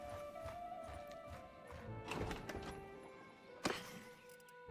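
Horse hooves clip-clop at a steady walking rhythm in the video game Bannerlord 2, over a low ambient bed with a brief sharp knock near the end.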